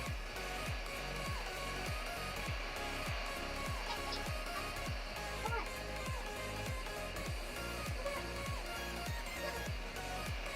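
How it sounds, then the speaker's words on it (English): Heat gun blowing continuously as it shrinks tinted film on the outside of a car windshield, a steady roaring airflow heard under a rhythmic repeating background beat. "Shrink the tinted film on the outside surface of the windshield with a heat gun and push it using a plastic scraper."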